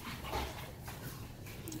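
A large dog whimpers and gives short yips at close range over a brief moment, amid low rustling noise.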